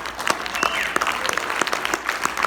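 An audience at a motivational talk applauds steadily, a dense, even patter of many hands clapping throughout the short stretch.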